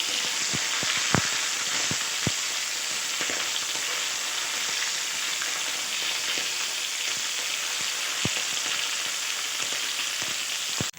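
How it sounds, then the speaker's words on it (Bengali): Fish frying in hot oil in a kadai, a loud continuous crackling sizzle close by, with occasional sharp spatter pops and ticks throughout. "মাছগুলো এক পাশে ভাজা হয়ে গেছে আমি এটা উল্টে দিচ্ছি"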